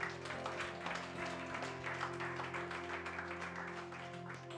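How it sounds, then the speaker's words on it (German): Faint, distant applause from a gospel church congregation, a soft continuous patter under steady sustained keyboard tones. "Kannst du mir einen Applaus geben?"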